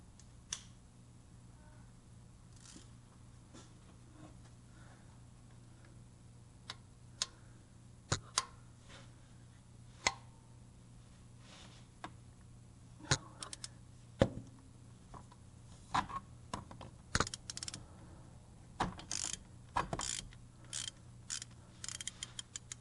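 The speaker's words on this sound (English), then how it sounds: "we're going to take that ratchet, the extension, and the 12mm" Ratchet with an extension and 12mm socket turned on a fuel injector hold-down of a Duramax LBZ diesel engine, giving irregular quiet clicks and ticks that grow denser toward the end over a low steady hum.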